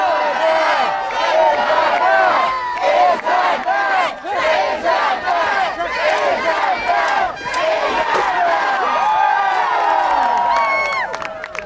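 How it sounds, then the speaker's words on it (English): Spectators at a Renaissance faire joust cheer their favorite knights before the final pass, a loud, close mass of shouting, whooping voices and individual yells overlapping continuously. "Good gentles, cheer your favorite knights as they prepare for the 5th and final pass!"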